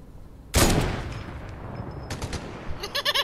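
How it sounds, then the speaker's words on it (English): Gunfire in the video game Fortnite: one sharp, loud shot, then a decaying tail with scattered smaller reports, and a quick rapid burst near the end, with no talk. "he's getting shot at by that person down there"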